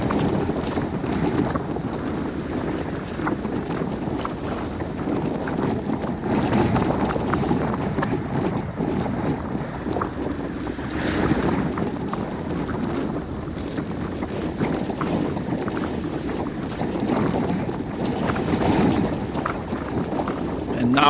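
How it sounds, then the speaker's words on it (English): Strong, continuous wind buffeting the microphone of a cyclist riding on a highway in a group ride, a dense roaring rumble with gusty swells and no breaks. "and it's windy."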